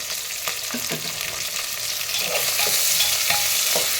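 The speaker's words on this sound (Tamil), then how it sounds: "வெங்காயத்தை நல்லா வடிக்கலாம் வெங்காயம் வந்து நல்லா எண்ணெயில் நல்லா வதங்கணும்" Onions fry in hot oil for coconut milk rice, a loud, continuous close sizzle that builds slightly, with a few soft spoon stirs and scrapes and no talking.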